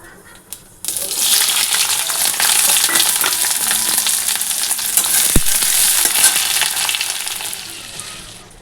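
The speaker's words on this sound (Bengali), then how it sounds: "এই যে ফোড়নে একটু কালো জিরে দিয়ে দিলাম" Nigella seeds dropped into hot oil for tempering burst into a loud, close crackling sizzle that starts abruptly and holds steady, with a brief clink partway through.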